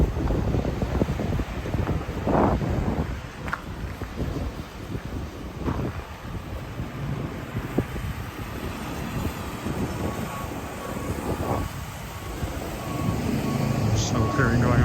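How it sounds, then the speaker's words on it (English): Cold wind rushes steadily across the microphone during a downtown walk in Regina after a blizzard, a continuous close roar with a distant engine-like rumble underneath. "I will feel the wind as I turn north here."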